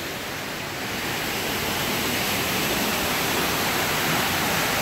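Steady broadband roar of the big waterfall at the UK Pavilion in Epcot's World Showcase, a constant rushing wash that grows slightly louder, heard alone without voices.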